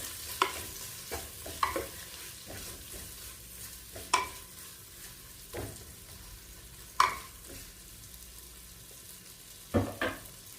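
Sliced onions with salt sizzle steadily in a pan on a Kerala stove, broken by several sharp scrapes and clinks of a spoon stirring them; no one speaks.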